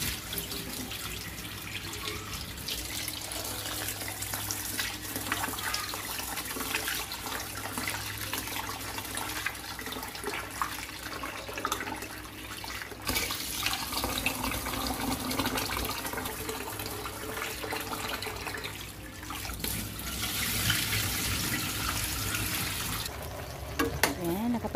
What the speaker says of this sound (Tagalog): pag maghugas ako ng rice, bigas, yan, mga 4-5 beses ko talaga hinugasan hanggang, na siya, yung, malinis na yung tubig talaga